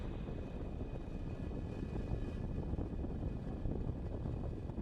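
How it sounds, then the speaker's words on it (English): A Falcon 9 rocket carrying Starlink satellites lifts off, heard as a steady, fairly faint low roar with a rough, wind-like rumble that holds throughout and has no voices over it. "Ignition. And liftoff of the Falcon 9 and Starlink."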